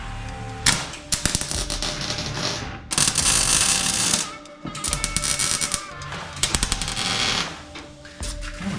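Welding on an off-road rollback truck, with bursts of crackling, buzzing arc noise that start and stop in uneven stretches, interrupted by sharp clicks and pauses, loud and close.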